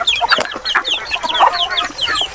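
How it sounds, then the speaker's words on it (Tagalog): A hen clucks softly and repeatedly, mixed with high, quick peeping from chicks close by. "Ito yung ating inahin. 3 yung sisiw."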